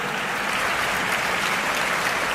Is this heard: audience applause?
yes